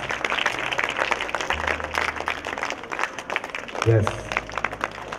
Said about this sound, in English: Let us give her a big round of applause and welcome Sister.